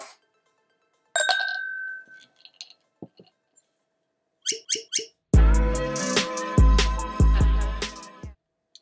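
Ice cubes clink and rattle into a glass, then Glenmorangie whisky pours over them in a burst of close pouring and crackling. A few sharp glassy knocks come before the pour.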